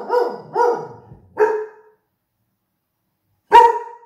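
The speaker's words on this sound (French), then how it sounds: "quand je le crie, il aboie" A dog barks three times in quick succession, pauses, then lets out one more loud bark, close by and clear with no talking over it.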